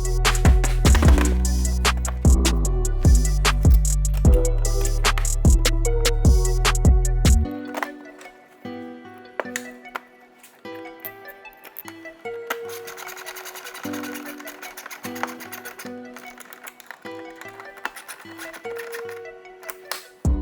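Plastic trim on a Land Rover LR3/LR4 tailgate is snapped into place and screws are run in for an emergency handle, giving a steady powered driver whir that gives way to lighter clicks and taps, close and fairly loud.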